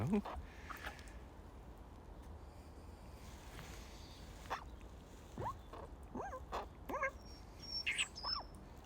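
Short bird chirps and calls ring out intermittently over a steady low outdoor rumble, with a few sharper squawk-like notes toward the end.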